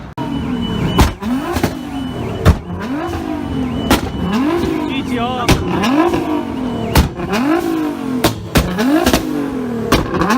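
Several Nissan GT-Rs rev at a packed car meet at Ace Cafe, loud and close, with repeated rising-and-falling engine sweeps and sharp pops or bangs punctuating the revs every second or so, and crowd noise underneath.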